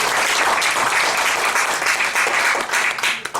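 Audience applause welcoming a lecturer at a Baekseok University teaching session, a dense steady wash of many hands clapping at close range that thins slightly toward the end.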